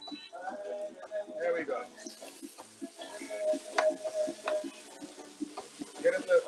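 Shrimp sizzling as they hit a hot pan for a sweet and spicy stir-fry, a steady close crackle running under a voice talking throughout.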